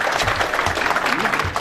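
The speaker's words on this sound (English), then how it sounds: "Give him a round of applause." Crowd applause at a motorsports memorabilia auction after an item sells, steady clapping across the whole short stretch with a voice speaking over it.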